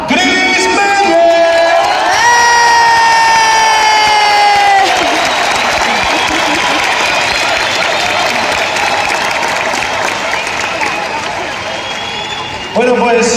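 Loud audience applause mixed with cheering and whoops greets motorcycle rider Chris Meyer at an event in Alcalá de Henares, a thick wall of clapping with shouting voices on top, tapering slightly before talk resumes.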